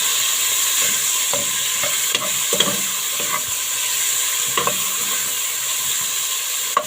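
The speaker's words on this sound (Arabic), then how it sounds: "هنزل بنص كيلو من السجق. بسم الله الرحمن الرحيم. متقطع صغير. اديله تشويحه كده مع الثوم" Small cut sausage pieces sauté with garlic in a pan, giving a steady loud sizzle and hiss with repeated scrapes and clinks of stirring throughout, no voices.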